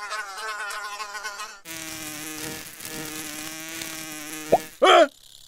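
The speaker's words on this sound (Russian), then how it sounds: "А, вот и муха!" A housefly buzzes in a children's cartoon puzzle scene, a close, bright whine rising over cheerful background music before breaking into sharper bursts near the end.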